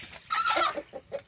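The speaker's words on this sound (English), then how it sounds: "But this hen right here, this big white one." Big white hen giving a brief, close cluck of a few rising notes, heard alone.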